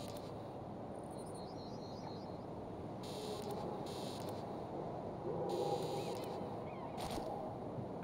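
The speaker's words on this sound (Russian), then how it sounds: "Я как будто бы слышу звуки живой природы." Wildlife ambience in the MudRunner Expeditions video game: faint goose-like honks and scattered bird calls over a soft, steady bed of insect and outdoor noise, distant and quiet with no speech.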